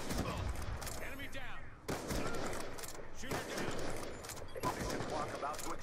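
Gunfire in a sniper-heavy video game lobby, repeated sharp shots and bursts rattling through the clip at close range, mixed with game noise and voices.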